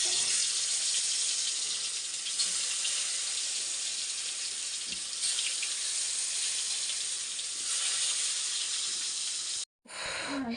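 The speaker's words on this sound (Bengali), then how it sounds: "তাই এখন কুমড়ো আর আলু ভাজবো। আর এদিকে তেল গরম হচ্ছে।" Pumpkin and potato frying in hot oil make a loud, continuous hiss that stays steady and close, then cuts out abruptly near the end before resuming.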